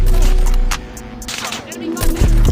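Sniper rifle shots in a mobile shooting game, sharp loud cracks with booming low-end impacts recurring across the span, mixed with game sound effects and faint voice.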